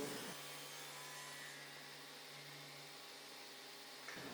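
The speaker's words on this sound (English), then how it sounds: "set the fence close to the center of the stock and run a piece through" A table saw with its blade raised to 3/8 inch cuts a centered groove in wooden stock for a bathroom vanity, giving a steady close whine and cutting hiss that runs unbroken for about four seconds before stopping.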